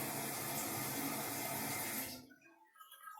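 Toilet tank water running steadily into the bowl through a worn flapper on the flush valve, a close, loud continuous rush that cuts off abruptly after about two seconds, leaving faint trickles.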